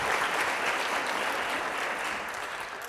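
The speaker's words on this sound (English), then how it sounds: "Huge round of applause for our volunteers here." Audience at a keynote talk on chronic absence applauding volunteers, a full steady burst of clapping that eases slightly near the end.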